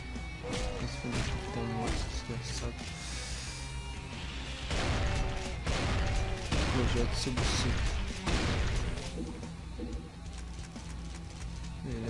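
Bursts of rapid gunfire and crashing impacts from the video game Brutal Doom come in dense, loud volleys over a busy game soundtrack, with a voice talking at points.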